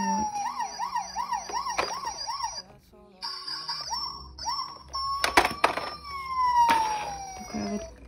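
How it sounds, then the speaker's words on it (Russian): Toy police car siren wailing in quick electronic up-and-down sweeps, then pausing and resuming with beeps and descending tones, close by with clicks of handling and a voice speaking briefly. "Такая вот полицейская машинка."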